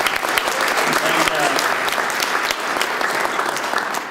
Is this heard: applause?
yes